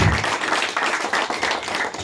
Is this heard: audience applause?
yes